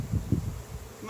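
A low, steady buzzing of many honeybees swarming close around a hive, with slight pulsing swells in the first half and no voices.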